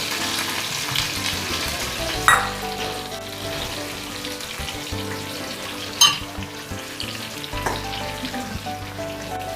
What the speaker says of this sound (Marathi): आणि हे थोडा वेळ आपल्याला असंच परतून घ्यायचे तेलामध्ये